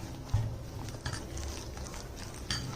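Dosa batter stirred together with onion and drumstick leaves, a soft, wet squelching and patting that runs steadily, with a couple of sharper slaps.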